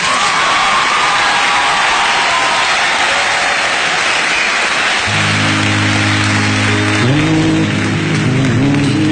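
Applause and cheering from a village crowd in Bhankoli, Uttarkashi, Uttarakhand, greeting the singers: steady loud clapping that runs through the whole stretch, with music swelling underneath in the second half.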